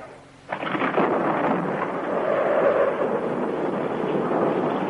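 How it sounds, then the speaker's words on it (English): A North Atlantic storm battering New York City in a 1967 radio advert: after a half-second lull, a loud, steady roar of wind and rain with rumbling thunder swells in and carries on without a break. "New York City under the pounding of a North Atlantic storm."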